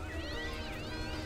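A stock cat meow sound effect from the video game Voodoo Vince plays as a brief, fairly faint meow over a steady game background.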